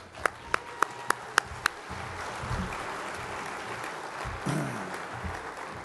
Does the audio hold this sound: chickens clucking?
no